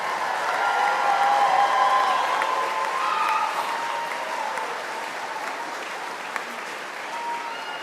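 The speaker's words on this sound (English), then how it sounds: "Let's give him a round of applause." Graduation ceremony audience applauding steadily after a list of honor students' names, a loud sustained wash of clapping that slowly eases off over several seconds.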